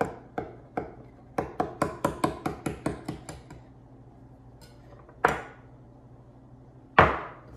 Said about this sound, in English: now I'm going to cut off the excess